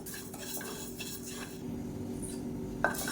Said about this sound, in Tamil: கடாய் சூடானதும் இப்போ வந்து காட்டியான மரிசியை சேர்த்துக்கலாம்